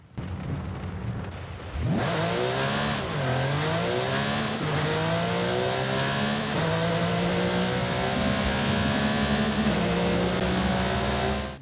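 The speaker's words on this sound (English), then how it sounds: "didn't that sound like a nice Porsche engine indeed?" A Porsche 911 GT3 engine in the video game Forza Horizon 5 starts with a loud burst, then revs hard and climbs steadily through the gears in a continuous, powerful roar.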